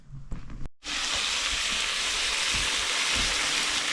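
Meat and potatoes frying in a pan for dinner in a cabin, a loud, steady broadband sizzle that starts abruptly after a brief pause and holds constant with small crackles.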